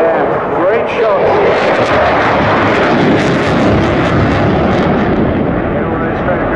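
Eurofighter Typhoon fighter jet roaring through a display at Bournemouth Air Festival, a loud, broad engine rumble sustained throughout with a commentator talking over it.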